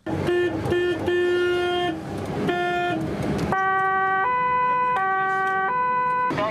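Ambulance siren wailing loud and near as the vehicle races at full speed toward a front-line area near Donetsk airport, its tone alternating between two steady pitches in a repeating high-low cycle, with no voices.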